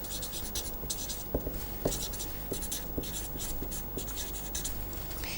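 Pen or marker writing by hand, a steady scratching stroke with sharper taps as letters are formed, close and continuous for several seconds with no talk.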